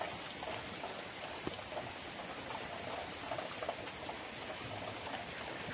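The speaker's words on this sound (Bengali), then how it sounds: "বৃষ্টি পড়ছে" Rain falls steadily outdoors as an even, faint hiss of drops pattering on surfaces, continuous and distant with no voices.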